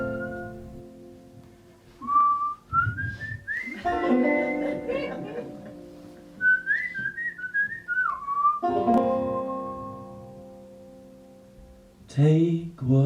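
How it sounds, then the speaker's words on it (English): Somber, melancholy folk-style whistling in a stage show: a sustained wavering melody of long held and sliding notes, clear and close, with pauses between phrases. "sombre whistling with a hint of melancholy and the promise of folk banjo"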